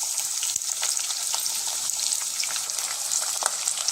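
Carrot, beans, green chilli, capsicum and potato frying for veg biryani, a dense, continuous close sizzle with occasional soft stirring scrapes.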